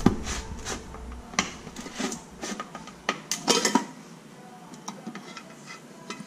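Black automotive base coat paint being stirred in a mixing cup: close clinks, taps and scraping knocks in an irregular rhythm, busier in the middle and fading toward the end, with no voices.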